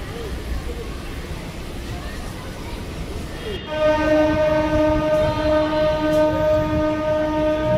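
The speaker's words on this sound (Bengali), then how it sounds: "অবশেষে ট্রেন এসে গেছে আমাদের।" A train pulling into a Kolkata station sounds a long, loud, steady horn blast midway, the tone holding over the din of rail noise and crowd babble on the platform.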